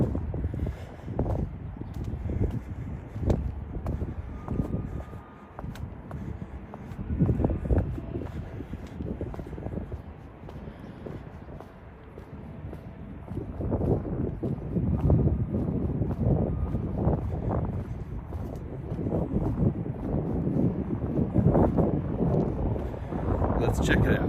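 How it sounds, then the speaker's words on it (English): Wind gusts outdoors in Lexington, Kentucky's Distillery District, buffeting the microphone in irregular low rumbling bursts that rise and fall throughout. "It's definitely gonna be windy over here."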